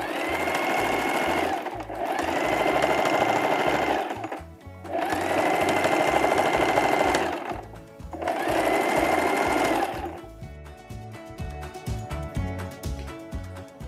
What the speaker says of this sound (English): I'm gonna start right here. And sew all the way down.